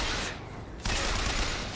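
Gunfire in the video game BioShock Infinite, played on Nintendo Switch, a dense, loud, noisy rattle of shots that briefly drops out and then resumes just as heavily.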